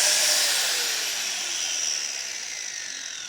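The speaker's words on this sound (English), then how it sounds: "You can do that with this angle grinder and the sandpaper." An angle grinder fitted with sandpaper rounding the edges of a small outdoor wooden table: a steady high whine with a rough sanding hiss, close and continuous, slowly easing off.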